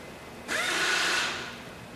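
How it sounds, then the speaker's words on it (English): A 1970s pneumatic impact wrench loosening a fastener gives a single close, loud burst of high whirring and rattling that runs for under a second before tapering off into quiet. "an impact wrench makes quick work of the series of fasteners"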